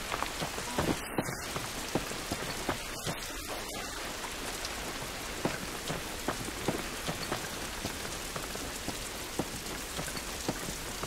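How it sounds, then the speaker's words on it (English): Steady rain patters on a surface in a video game, a soft continuous hiss with scattered drop ticks, calm and moderately quiet with no voices. "This rain ain't gonna do us any good."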